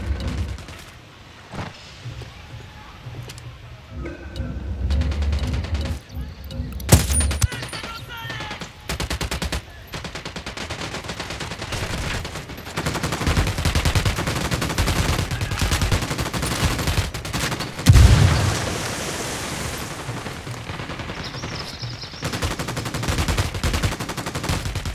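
Gunfire in Tom Clancy's Ghost Recon Wildlands, with repeated sharp shots and bursts throughout against a mechanical background rumble, and occasional louder close reports.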